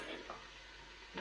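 Onions sizzling steadily in a frying pan as they are stirred to soften, a constant hiss with a brief louder scrape or stir near the end.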